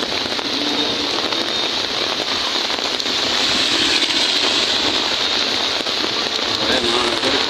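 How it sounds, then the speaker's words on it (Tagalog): Heavy rain drums steadily on surfaces during a flood, a loud, dense hiss that stays constant throughout with no pauses. "Lakas ng ulan."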